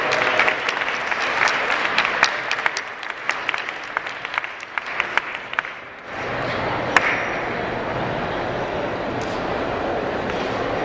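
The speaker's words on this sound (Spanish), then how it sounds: "y le recibo también con fuerte aplauso" Audience applause at a Holocaust remembrance talk, dense, busy clapping with sharp claps for about six seconds, then settling into a quieter, even wash of crowd noise with a few stray claps.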